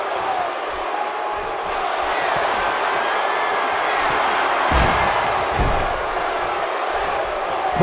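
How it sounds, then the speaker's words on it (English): Wrestling arena crowd in the video game Def Jam 2K17 roars steadily throughout a singles match, a dense continuous cheer with a couple of low thuds near the middle. "by the sounds of it, this crowd is ready for anything that happens tonight"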